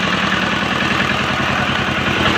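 Engine-powered machine used for processing gold ore from rock, running with a steady mid-to-low idling drone and a fast regular knocking pulse, loud and close with no talk.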